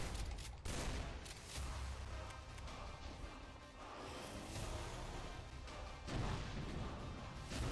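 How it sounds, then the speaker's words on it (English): Loud, dense gunfire and crashing impacts from the DOOM map Lost Civilization, a steady barrage of shots and blasts filling the whole stretch without pause. "Who's shooting?"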